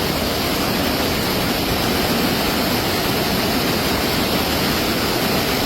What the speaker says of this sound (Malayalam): വെള്ളം ഇങ്ങനെ ഓരോ സെക്കൻഡിനും വെള്ളം കൂടിക്കൊണ്ടിരിക്കുകയാണ്.